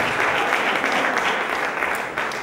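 An audience applauds at an awards gala, a dense, even burst of clapping from a large crowd that holds steady and tapers slightly at the end.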